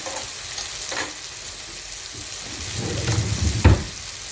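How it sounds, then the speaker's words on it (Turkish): Tomatoes sizzle and fry in a pan for a tomato omelette, with a steady broadband hiss and a few louder scraping presses as a fork flattens them near the end. "Şimdi güzelce domateslerimizi çatal yardımıyla düzleyeceğiz."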